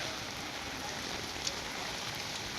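Heavy rain pours down on a school-opening morning, a dense, even hiss of drops on surfaces filling the whole stretch without a break, close and continuous, with no voices over it.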